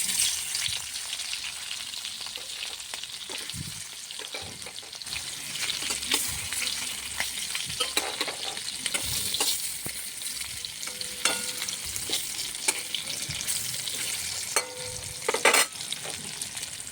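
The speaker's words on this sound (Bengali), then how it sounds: "আমি এখন ইলিশ মাছ ভাজা রান্না করব" Hilsa fish fillets rubbed with salt and turmeric fry in a pan, giving a steady, close sizzle with scattered pops and spatters throughout and no one speaking.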